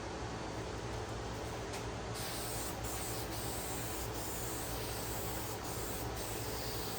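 Zinsser Bulls Eye shellac hisses steadily from an aerosol can onto a guitar body, a continuous close spray with faint rhythmic ticks running through it.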